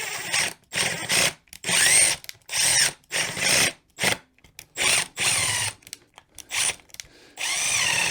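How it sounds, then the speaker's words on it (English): A power drill whirs in repeated short bursts, about a dozen pulses with brief pauses, close by as it backs a screw out. "you just want to flip the drill into reverse"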